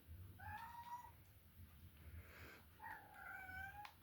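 A domestic cat indoors at home lets out two clear, drawn-out meows about two seconds apart, fairly quiet, with nothing else around them.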